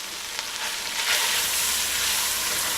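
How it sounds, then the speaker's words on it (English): Flour frying with onions in a pan, a steady close sizzle with soft crackle running throughout, no talking. "And we just got to cook the flour through"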